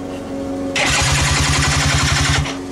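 Engine cranking on partial choke with a fast rhythmic starter chug, loud and close, running for under two seconds before cutting off.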